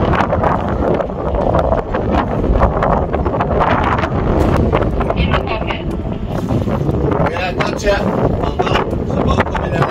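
Strong wind buffets the microphone aboard a sailboat, a loud continuous roar and rumble over water, with people talking and calling out through the gusts.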